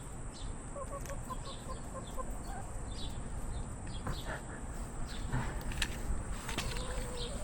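Backyard chickens squabble over blueberries, giving soft, scattered clucks and brief calls against steady outdoor background noise, with scratching and footstep-like rustles nearby.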